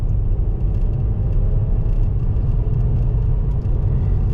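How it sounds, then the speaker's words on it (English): A 2024 Nissan Versa SR small car pulls away from a rolling start, with a steady engine drone and road rumble heard from inside the cabin, continuous and moderately loud throughout. "now we're going to take off from a roll"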